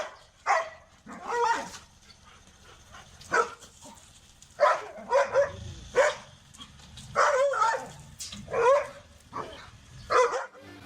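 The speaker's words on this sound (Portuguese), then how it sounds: "Olha só as reações desses 2 cães-lobo da Tchecoslováquia à presença do carteiro." Two Czechoslovakian wolfdogs bark in repeated loud bursts at a mailman, their barks overlapping in an uneven rhythm with brief whimpers between volleys, close by.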